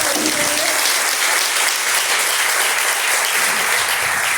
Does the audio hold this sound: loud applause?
yes